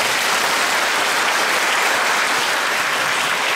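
Audience applause for a performer at a live band album-sharing concert, a dense, even wash of many hands clapping loudly and continuously from start to finish.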